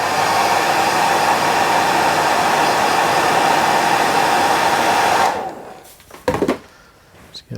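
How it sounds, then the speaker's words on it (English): A hair dryer blows with a steady loud whir for several seconds while drying a CDC dry fly on a fly-tying vise, then switches off, leaving a few faint clicks and handling noises. "hit it with the hairdryer"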